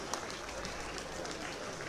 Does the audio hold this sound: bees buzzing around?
no